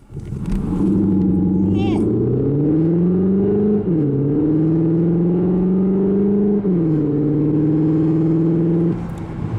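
A 2021 Cupra Leon ST plug-in hybrid, 245 hp, revs up loudly and close accelerating hard from standstill, its pitch climbing steadily with two brief dips as it shifts, then cutting off near the end.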